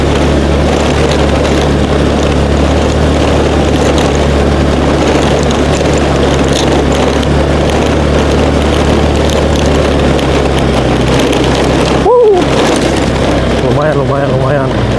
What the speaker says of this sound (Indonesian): udah mulai full gas ini motor